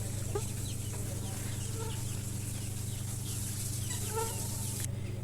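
Native desi chickens being caught on a poultry farm, scattered soft clucks and squawks over a constant low mechanical hum, fairly faint and without talk.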